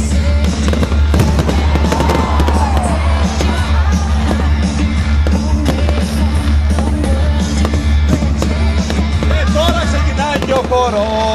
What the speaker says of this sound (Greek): Δεν θα σταματήσουμε παιδιά ποτέ τα πυροτεχνήματα, να το θυμάστε αυτό.